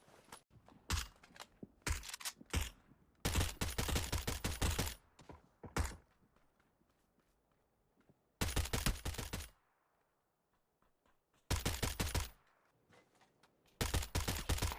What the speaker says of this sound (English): Do you hear how he shoots?